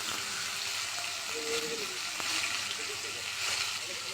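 Garlic paste frying in hot oil with tomato and salt in a pan, a soft steady sizzle with a few light stirring scrapes, fairly quiet and close.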